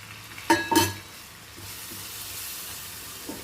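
Tomatoes and chilli paste with coriander powder, turmeric and salt frying in a pan for an anchovy dried-fish curry; a couple of loud stirring scrapes early on, then a soft, steady sizzle close by.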